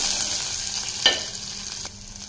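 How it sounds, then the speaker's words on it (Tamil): Onions and garlic sautéing in a pan for banana flower sambar give a steady, soft sizzle throughout, with a brief brighter crackle near the middle. The sound is close and moderate in level. "வெங்காயம் வதங்கட்டுங்க"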